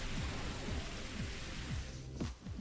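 Steady hissing rain weather in a Pokémon XD: Gale of Darkness battle, a continuous wash of noise with faint repeating low chirps beneath it.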